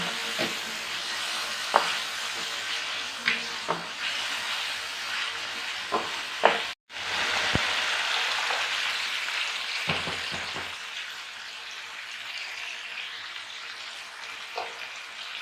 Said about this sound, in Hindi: चिकन को अच्छी तरह फ्राई करेंगे